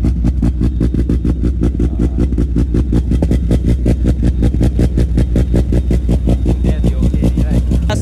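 Modified car engine idling loud and close, a deep rapid lumpy pulse with a steady uneven rhythm throughout, no voices.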